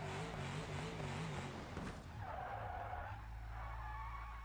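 Tires squealing in a sideways skid while clutch kicking in BeamNG.drive, a sustained loud screech over a revving engine that wavers, then drops into a lower engine drone as the slide eases; no talking.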